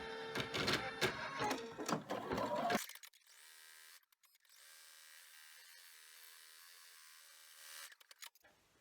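Embroidery machine running an in-the-hoop placement stitch in a 4x4 hoop for an ID badge holder, a busy mechanical whirr for about three seconds before stopping, leaving faint room noise with a few brief clicks.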